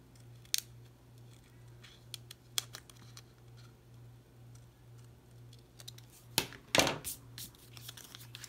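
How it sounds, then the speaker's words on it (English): Scissors snip a ragged edge along a piece of card paper for a travel-themed handmade card. A few sparse, quiet cuts are followed by a quicker, louder burst of snipping near the end, close up in a quiet room. "I've taken the edge again and kind of done a ragged cut. Let's do that again on this side."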